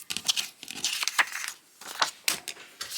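Paper being cut with scissors for a small junk journal ephemera folio, giving a run of close, crisp snips and rustling crinkles in irregular bursts with no talking.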